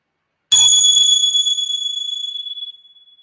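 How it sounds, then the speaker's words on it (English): A meditation bell is struck once, giving a bright, clear tone that rings on and slowly fades over a few seconds in otherwise silent surroundings. "And as I ring the bell"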